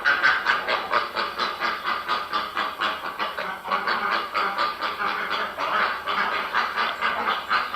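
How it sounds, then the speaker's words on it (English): A duck quacks in a rapid repeated series, loud and close, continuing as a rhythmic run of nasal calls with no talking. "It makes a quack, quack sound, doesn't it?"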